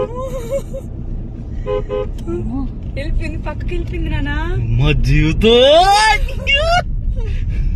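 A car horn toots several times in short bursts over road traffic noise, with voices and other vehicle sounds mixed in.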